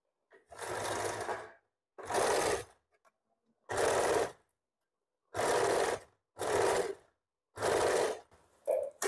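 Sewing machine stitching an umbrella frock, running in seven short bursts of steady whirring separated by brief pauses, close and clear with no talking.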